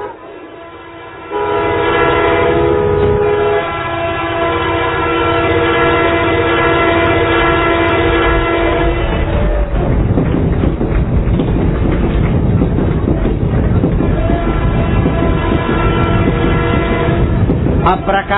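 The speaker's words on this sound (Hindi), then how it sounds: "अब प्रकाशा में रेलगाड़ी चलती है पंडाल में ऐसा कभी देखा क्या" A toy or model train runs inside a festival pandal at Prakasha, its horn blaring in long sustained tones before giving way to a loud, continuous rumble and rattle of the running train, with a busy crowd around it.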